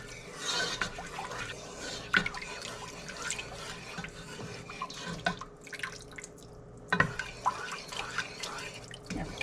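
Canned evaporated milk pours into a pot as a quiet, uneven liquid trickle and dripping in a kitchen, faint and close, with a few soft clinks.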